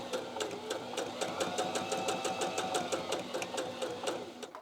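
A Viking Onyx 15 sewing machine stitches a buttonhole, its motor humming close and steady while the needle taps in a quick, even rhythm of about four stitches per second.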